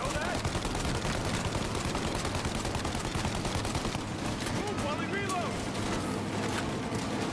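Continuous rapid gunfire with infinite ammo fills a video game scene, loud and dense throughout, with people talking over it.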